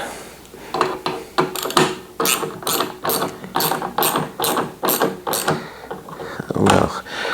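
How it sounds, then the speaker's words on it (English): A ratchet wrench clicks through about a dozen strokes while tightening a license plate frame on an Indian Challenger motorcycle, rhythmic close metallic ratcheting bursts with short pauses between pulls. "But I can be bothered with putting the wrench on the correct way."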